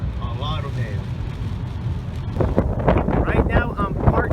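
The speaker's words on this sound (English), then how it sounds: "it is very windy, and that is a large storm over there" Strong storm wind roars and buffets the microphone near Bakersfield, California, a continuous loud rush with someone talking over it.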